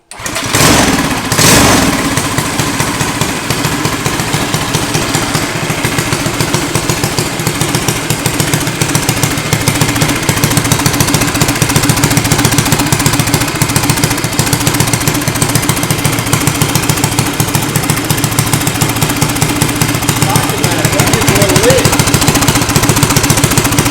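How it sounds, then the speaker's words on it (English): A small engine fires up for the first time with the choke in use, then runs on at a loud, steady, rapid chugging rhythm close to the microphone, with voices talking over it. "That's the engine."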